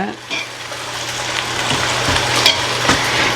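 Onions frying in oil and being stirred for chicken dum biryani in a large two-kilo batch, a steady bright sizzle broken by scraping strokes of a spoon against the pan, close and fairly loud.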